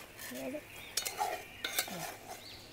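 A spoon stirs fern curry in a pot during outdoor cooking, making a few soft scraping clinks and light knocks against the pot, quiet and close, with a faint simmering hiss underneath.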